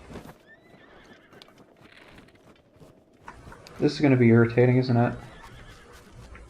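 Horses in Breath of the Wild give a loud whinny with clattering hoofbeats at close range, preceded by quieter game ambience while a person talks over it.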